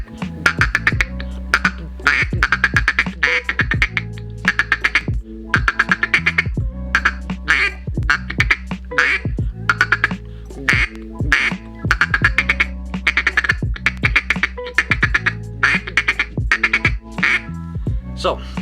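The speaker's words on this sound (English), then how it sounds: "So that is how you do the feed call with some quacks into it." A duck call sounds a rapid, rhythmic feeding chatter broken up by loud quacks, repeated steadily and close, with no other sounds.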